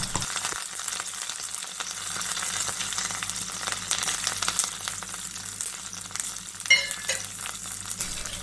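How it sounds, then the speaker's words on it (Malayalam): Mustard seeds, dried red chili and curry leaves fry in hot oil in a pan as a tempering for spinach and mango curry, with a close, steady sizzle and scattered crackles and pops. "ഒരു പാൻ അടുപ്പത്ത് വെച്ച് അതിൽ എണ്ണ ഒഴിച്ച് ചൂടാക്കിയിട്ട് നമുക്ക് കടുക്, പിന്നെ വറ്റൽമുളക്, വേപ്പില ഒക്കെ ഇട്ട് കൊടുക്കാം"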